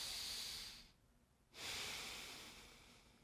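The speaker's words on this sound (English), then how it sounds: "Deep breath in." A deep breath drawn in during a shoulder mobility stretch: a close, airy rush of breath, a brief near-silent pause, then a longer steady inhale that slowly fades.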